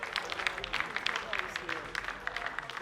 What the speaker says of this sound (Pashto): په ویاړ چکچکې وهئ.